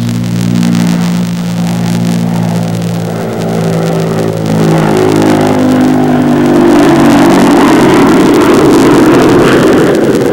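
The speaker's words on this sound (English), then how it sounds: "The jet engines are cut in for extra boost" Loud, continuous engine roar from a bomber's jet engines at takeoff with a full bomb load, a deep droning hum that builds into a harsher, rushing rumble.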